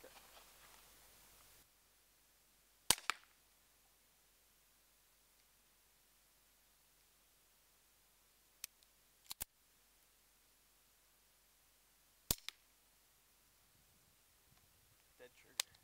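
Simunition training rounds fired from a pistol at a cardboard target, a few sharp isolated cracks spaced seconds apart, with one tight pair, against a near-silent background.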